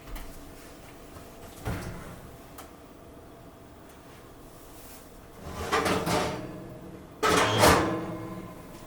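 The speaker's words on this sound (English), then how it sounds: "Now I'm going to take it out of the oven." An oven door being opened to take out a dish of beef tehari in a home kitchen, heard as a soft thump early on, then a couple of louder creaking, clattering movements near the end.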